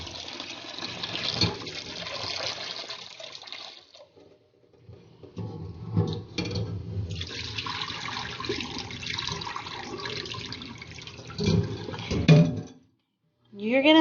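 Chickpeas rinsed under a kitchen sink tap, with water gushing and splashing steadily, a brief lull partway through, then more running and sloshing before the flow stops near the end.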